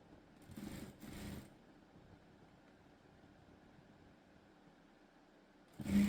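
A sewing machine stitches a school uniform top in quick bursts, with two short runs near the start and another at the end, faint and close, and soft handling noise between the runs.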